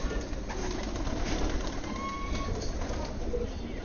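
Pigeons cooing softly over a steady background of broadband noise on a farm, with a few faint calls scattered through.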